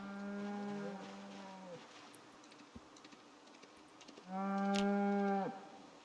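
Cattle lowing in the Project Zomboid video game: two long, loud moos, one at the start and another near the end, separated by a quieter stretch of faint background noise.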